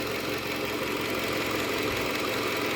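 A Toyota Camry's 2AZ engine, with about 153,000 km and twice-replaced balance shafts, idles steadily with a low, even rumble and faint mechanical knocking, continuous throughout and fairly close.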